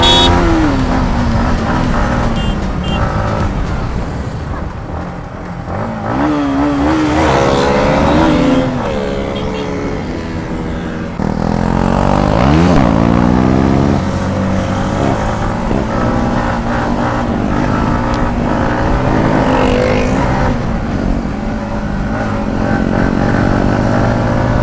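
A KTM Duke 250 motorcycle races and revs hard on an open road, its engine note rising and falling loudly and continuously alongside the roar of other bikes, with wind rushing past throughout.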